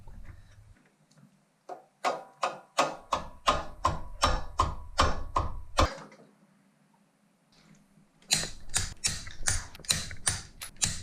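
Extended wheel studs on a Honda Beat tightened by hand with a ratchet, giving rapid runs of crisp, close clicking in two bursts with a short pause between them and no speech.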